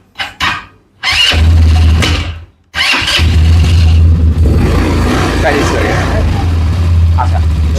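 An automatic-gear ATV quad bike engine cranks and fires, cuts out after about a second, then restarts and settles into a loud, steady idle close by.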